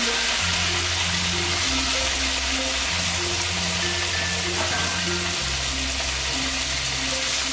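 Chicken pieces fry in hot oil in a pan with a loud, dense, continuous sizzle and crackle throughout, while a steady low background hum runs beneath it.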